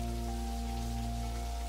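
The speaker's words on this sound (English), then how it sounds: "Just try and enjoy the rain." Steady rain falling in the video game Necrobarista, a dense continuous hiss over a constant low hum, even and unbroken throughout.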